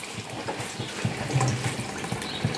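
Strained tamarind soaking water poured into an anchovy fish curry, a steady close liquid splashing and trickling that swells in short bursts over about two and a half seconds.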